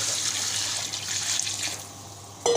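Four glasses of water are poured into a pot of fried chicken and turnips, giving a steady close rush of liquid that fades near the end before a sudden clatter.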